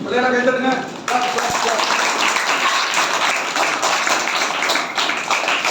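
An audience claps for a children's program, a dense, steady wash of applause that swells at about the one-second mark and holds loud to the end. A voice runs over the start.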